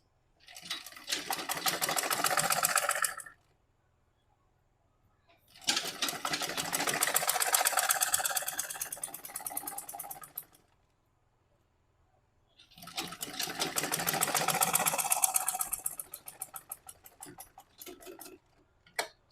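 A sewing machine stitching a gown runs in three long bursts of rapid, even mechanical clatter, each a few seconds long, with silent pauses between and no talking.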